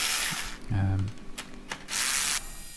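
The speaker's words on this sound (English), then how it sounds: "I've actually used an electric screwdriver here just to make the process go" An electric screwdriver loosening spoke nipples on a Brompton bicycle wheel, a short motor whir with a low hum and brief scraping, framed by bursts of hiss and rubbing close by.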